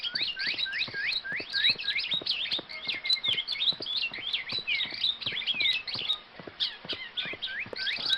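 Bird chirping near a crop field in a village, a dense run of quick high tweets and trills repeating steadily throughout, fairly close and clear with no voices.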